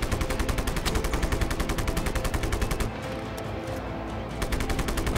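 Rapid automatic gunfire from ordinary weapons aimed at towers in the video game Just Cause 3, loud and sustained bursts of close shots with a brief lull of lower rumble in the middle before firing resumes.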